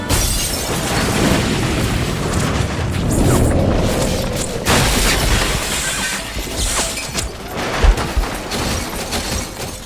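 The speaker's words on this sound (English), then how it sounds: "Until, boom, the bomb explodes in the hallway, killing bomb squad member Dylan Young instantly and shaking the hospital to its core" A bomb blast in a hospital hallway in a Grey's Anatomy scene, heard as a dense, rumbling boom with crashing debris, followed by continued loud rumble and scattered impacts.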